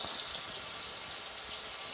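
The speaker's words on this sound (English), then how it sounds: "just fill it up with hot water" Hot water from a kitchen tap pours steadily into a sink, a continuous bright hiss of running water filling the basin with no pauses.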